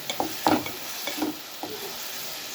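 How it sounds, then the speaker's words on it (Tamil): Tomatoes and onions sautéing in a pan for a fish curry, a soft continuous sizzle broken by a few sharp scrapes and knocks of a spoon stirring. "தக்காளி வெங்காயம் நல்லா வதங்கட்டும்."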